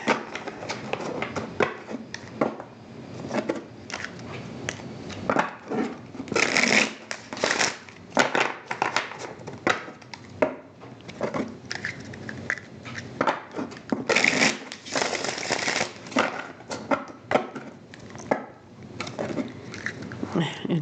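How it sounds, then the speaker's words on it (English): Tarot cards are shuffled repeatedly in crisp, riffling bursts with short pauses between them, close by, while soft movements and handling sounds fill the gaps. "So let's give the cards a few more shuffles"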